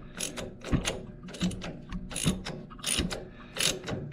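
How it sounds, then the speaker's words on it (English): A hand ratchet wrench clicks through repeated short strokes on a hard-to-reach bolt during a low boy clutch replacement, close and fairly quiet, with evenly spaced bursts of pawl clicks and brief pauses between them. "we got a junk ratchet here"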